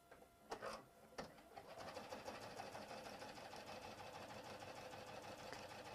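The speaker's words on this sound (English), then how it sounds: "I'm going to change my sewing machine so that it does a reverse stitch" A sewing machine, turned to a lower speed, whirs rapidly and steadily, stitching quilt binding continuously after a couple of short clicks and starts at the beginning.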